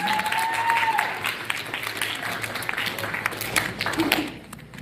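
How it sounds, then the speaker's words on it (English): Applause from a school audience for a speaker coming up, steady claps at moderate loudness with some voices and crowd murmur mixed in, fading toward the end. "Can I get a round of applause, please?"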